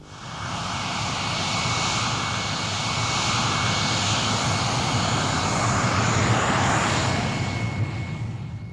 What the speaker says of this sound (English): Geoffrey Pike was first away in the night fighter